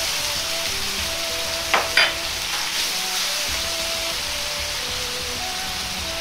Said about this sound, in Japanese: ここから大根に味を染み込ませるため2分くらい煮ていきます。